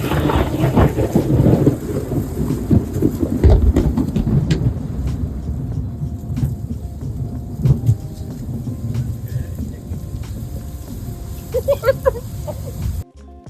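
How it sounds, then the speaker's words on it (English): Thunder rolling through a tropical storm in El Nido, Philippines: loud, rumbling peals over constant heavy rain, with a few sharper cracks and no one talking. "listen to this freaking thunder"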